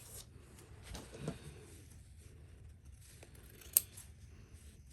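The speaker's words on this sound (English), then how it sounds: "I'm just going to trim some of the seam allowance to make it a little bit lay flatter" Scissors snip through the fabric seam allowance of a sewn strap, a few soft close cuts with one sharp snip standing out against a quiet room.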